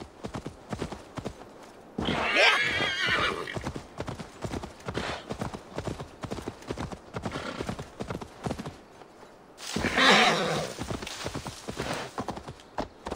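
In Assassin's Creed Valhalla, a horse trots away with a steady clip-clop of hooves on hard ground, broken by two louder bursts of rustling movement, and no one talks.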